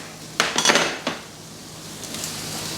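Peppers drop into a hot pan with rendered fat and olive oil, a few sharp metallic clanks and knocks followed by a quiet steady sizzle.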